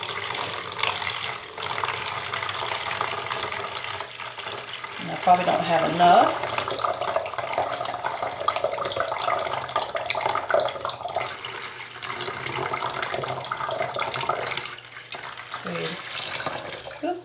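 Tap water runs from a faucet into a container being filled for making lard soap, a steady close gushing stream that goes on for most of the time while a person speaks briefly over it.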